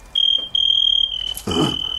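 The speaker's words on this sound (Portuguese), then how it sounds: "Tem grilo nessa casa." Crickets chirping indoors in a house, a steady high-pitched trill in sustained bursts with brief gaps, clear and close, ending under a louder broadband rustle.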